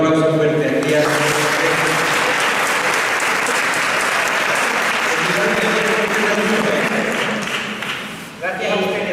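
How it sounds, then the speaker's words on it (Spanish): Loud, sustained applause from the congregation at a parish conference on euthanasia, a dense wall of clapping that fills the room and fades near the end as a voice returns. "Un aplauso fuerte aquí a"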